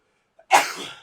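A single loud, sharp sneeze bursts out after a brief quiet moment, with a breathy tail fading away.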